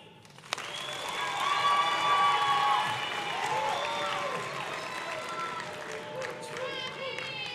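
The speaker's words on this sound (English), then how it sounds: "Let's all practice out there. One large clap." A graduation crowd claps once in a single sharp burst, then a broad swell of cheering and chatter follows and slowly settles while voices carry over it.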